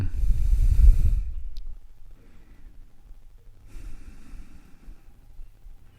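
Slow, deliberate breaths during a calm breathing exercise: a long, fairly loud exhale at the start, then quieter, softer breathing that swells again near the end, with no talking.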